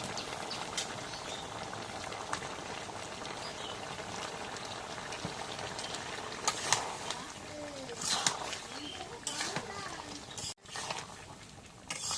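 Curry broth bubbles steadily in a pot, a soft continuous boiling with occasional louder pops and faint voices nearby.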